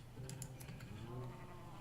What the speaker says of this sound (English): I have got some red sheep over here